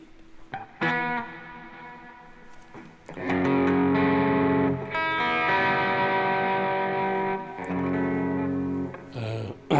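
Distorted electric guitar played through effects pedals with light chorus and reverb, starting with a few picked notes, then settling into loud sustained chords and riffs that ring out steadily, with no voices over it.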